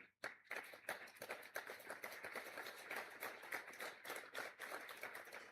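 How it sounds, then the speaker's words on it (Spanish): Sparse, hesitant clapping from a small audience during a live morning broadcast, quiet scattered hand claps in an irregular rhythm, faint and distant. "Tímidos aplausos"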